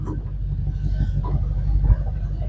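A 1953 Chevy with an LS engine swap and air suspension backs up in reverse, its low engine rumble steady and close throughout with faint bumps, no talking heard.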